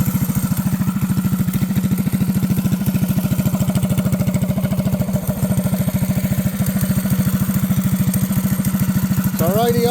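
Predator 212cc small engine mounted on a bike runs steadily at a close, loud idle, with a fast, even putter and mechanical clatter throughout and a brief rising whine at the very end.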